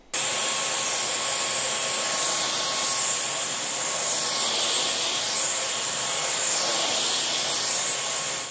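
A TechniSat Technimax AS1 upright vacuum cleaner runs at its intermediate power level, a constant close rush of air and a thin high whine with no pauses or shifts in pitch.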